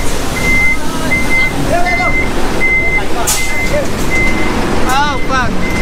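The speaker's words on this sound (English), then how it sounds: "We almost got backed up on by a truck." A truck reversing on a Bangkok street, its backup alarm beeping in a steady repeating pattern over loud traffic rumble, with people talking nearby and a brief horn-like wail near the end.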